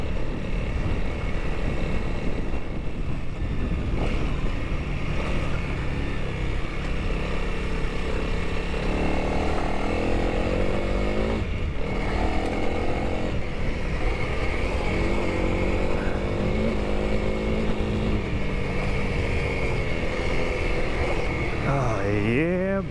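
Honda CRF 300L motorcycle ridden through dirt, a continuous loud engine drone with rising and falling revs heard close from on the bike, wind rushing throughout.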